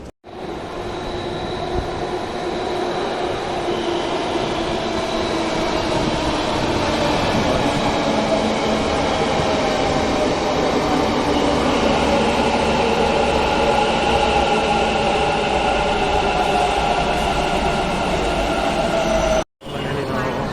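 Metro train ride from inside a moving carriage, a loud steady rumble and hum of the wheels and motors for about twenty seconds with faint squeals, cut by a brief dropout near the end.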